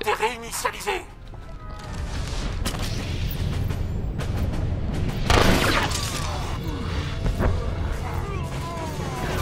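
An explosive charge detonates during a PvP match in Star Wars: The Old Republic, a booming blast with crashing and mechanical clatter over constant game noise and someone talking.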